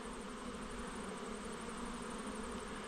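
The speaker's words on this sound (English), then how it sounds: "It's just a busy hive with a lot coming in and a lot going out." Honeybees swarm around a busy Long Langstroth hive with steady foragers coming and going, making a dense, continuous buzz that fills the whole stretch, close and even, with no talking.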